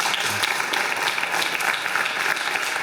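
Audience applause for prize winners at the Trophées de l'Attractivité awards ceremony, a steady dense wash of clapping from a crowd that holds at an even level throughout without letting up.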